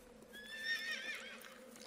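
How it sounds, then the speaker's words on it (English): A horse in the video game Shadow of the Colossus whinnies with a rising, harmonic neigh, and hooves clip-clop softly beneath it in a short, clear burst. "well, the horse doesn't want to go in there."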